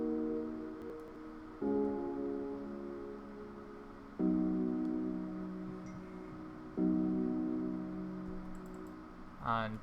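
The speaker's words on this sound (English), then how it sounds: "the chords I played under this acapella is right here" Basic chords for a type beat, played as four sustained keyboard-like chords in a slow, even rhythm, each one held until the next, ending with a short rising sweep.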